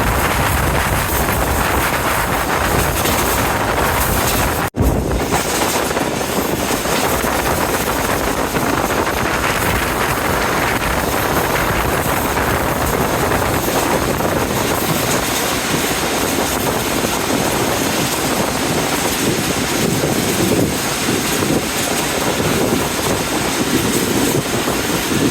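Pakistan Railways 26 Down express passenger train passing close by, a steady loud rumbling roar with rushing wind noise that holds for the whole stretch, with one sharp thump early on.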